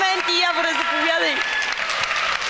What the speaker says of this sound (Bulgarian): Вашите аплодисменти за Явор